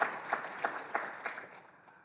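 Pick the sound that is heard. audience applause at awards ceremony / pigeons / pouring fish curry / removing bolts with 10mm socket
audience applause at awards ceremony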